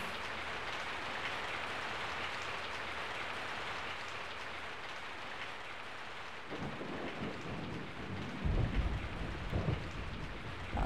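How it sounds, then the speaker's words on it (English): Steady, dense rain hisses throughout a scene in the Resident Evil 3: Nemesis video game, with deep thunder rumbling in partway through and swelling louder near the end; no voices. "I woke up to the sound of falling rain."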